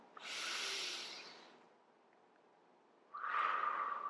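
Deep breaths during a floor yoga sequence, one long airy exhale up front, a quiet pause, then a second strong, hissing breath near the end, close and alone.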